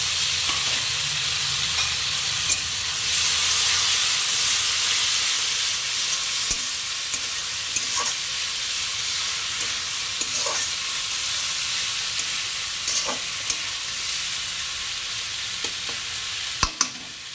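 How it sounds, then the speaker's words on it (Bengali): Ginger-cumin paste with chopped tomato fries in a pan for an onion and small-fish chachchari, giving a steady, close sizzle with occasional stirring scrapes and taps over about seventeen seconds, no voices. "ভালো করে মশলাটা ভেজে নেব।"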